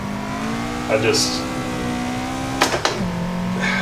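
A Toyota AE86 engine in Assetto Corsa holds a steady droning rev while the tires keep spinning, with a couple of sharper throttle blips and squeals breaking through near the end.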